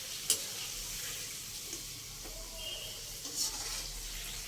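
Food frying in a pan on a home stove and being turned from side to side, a steady soft sizzle with a few light scraping stirs, no voices.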